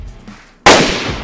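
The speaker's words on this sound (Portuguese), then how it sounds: "Droga, errei muito o tiro, velho." A single sharp, loud gunshot in the video game DayZ bursts out after a quieter moment, its blast ringing and decaying over the following second.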